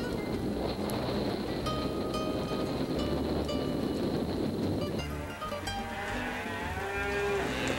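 A herd of cattle at a ranch near Cape Horn, Chile, low and moo, several overlapping calls at a moderate distance, with steady wind and rumbling background noise throughout.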